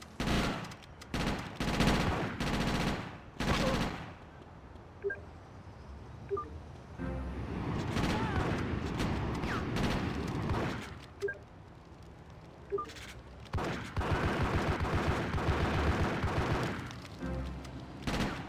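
Repeated bursts of game gunfire from GTA: Chinatown Wars crackle in clusters, loud and close, with short gaps between volleys and ongoing background game noise.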